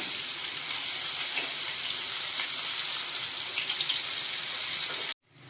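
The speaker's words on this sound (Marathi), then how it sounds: "आपण अजून एक ते दोन मिनटं एकदम बारीक गॅसवर मच्छी आपण ही भाजून घेऊया" Surmai fish fries in a pan over low heat with a steady, even hiss that runs unbroken and then cuts off abruptly.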